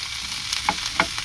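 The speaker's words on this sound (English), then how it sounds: "keeping these vegetables moving about, and you can hear them sizzling" Pak choy and other vegetables sizzle in a hot stir-fry pan for a honey soy pork dish, a loud steady frying hiss with two quick bursts as the pieces are tossed.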